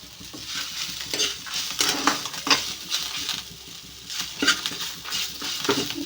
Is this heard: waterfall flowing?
no